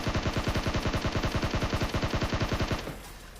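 Rapid automatic gunfire from a mobile battle royale game, a steady loud burst of evenly spaced shots running close to three seconds before stopping abruptly into a quieter game background.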